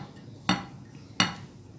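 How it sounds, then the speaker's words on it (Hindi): Chopped carrots drop into a bowl of tomatoes and onions for raita, making two quick, sharp clinks against the dish about a second apart, close and fairly faint in a quiet room. "और फिर इधर डाल देंगे ये गाजर डाल दी हमने"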